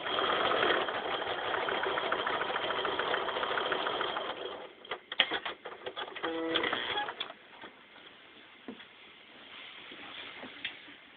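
A sewing machine runs steadily, stitching a seam on a T-shirt quilt, then breaks into short stop-start bursts as the seam is reached, with softer mechanical clicks and handling noise between runs.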